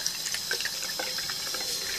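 Water running through an aquarium filter after a charcoal filter change, a soft continuous trickle and splash that stays steady and low in level, with no voices.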